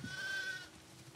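A single sheep bleats once, a brief nasal cry in the video game The Last of Us Part 2, fading into low ambient background.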